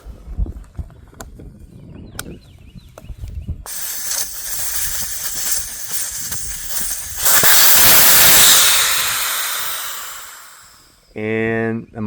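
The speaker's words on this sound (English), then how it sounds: "So I'm just going to pull that valve core out." A tire deflates after its valve core is pulled: a few light clicks, then a loud, close rush of escaping air that swells and slowly tapers off, followed by a brief spoken voice.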